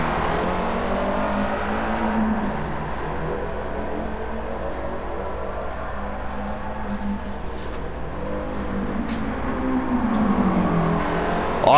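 Toyota MR2 GT-S 2-litre 16V turbo mid-engine car in Gran Turismo 7, its engine droning steadily with pitch sweeps as it downshifts and revs, loud and continuous with no talking.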